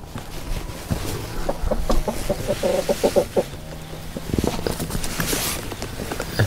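Chickens cluck and murmur close by at a rural hillside home in northwest Vietnam, a busy run of short, uneven calls mixed with rustling and shuffling movement, no talk.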